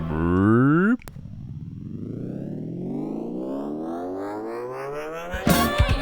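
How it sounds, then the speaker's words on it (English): A tonal sound abruptly cuts, then a steady pitched drone slowly bends and drags downward in pitch in a tape-stop effect, like a tape winding to a stop, ending in a crackly burst. "and then it does this tape stop or tape"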